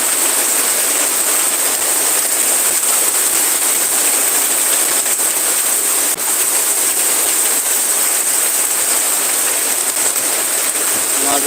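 Steady, even rain hisses continuously and uniformly, with no pauses or gusts, a soft wash of falling drops.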